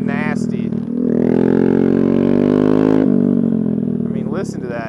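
A Honda Grom motorcycle fitted with an MNNTHBX aftermarket exhaust revs up close by, its throaty engine note swelling and holding before dropping back to idle, with brief voice-like sounds at the start and end.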